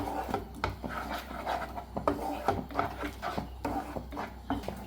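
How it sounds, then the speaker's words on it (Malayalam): Egg mixture with chili flakes and pepper being stirred in a bowl, giving soft, repeated scraping and rubbing strokes at a steady rhythm, close and quiet. "ഇതുപോലെ നന്നായിട്ട് എല്ലാം കൂടെ ഒന്ന് മിക്സ് ചെയ്ത് കൊടുക്കാം"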